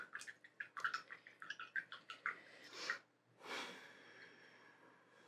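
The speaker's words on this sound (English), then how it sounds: "All right, you wash the brush off." A paintbrush is swished and rinsed in water after acrylic painting, a quick series of rhythmic splashy dabs followed by a longer sloshing swirl, close and fairly soft.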